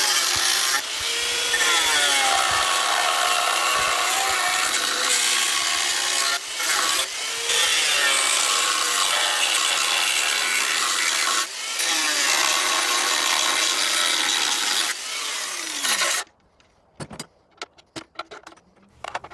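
Cutting tool chopping back old John Deere JX85 lawnmower parts close to their rivets, a loud continuous rasping grind with brief pauses, ending abruptly and followed by scattered faint clicks and handling noises.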